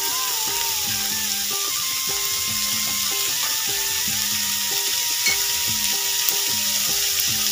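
Pointed gourd with potato, onion and chilli frying in a pan, giving a loud, continuous sizzle while a utensil stirs and scrapes through it in regular strokes.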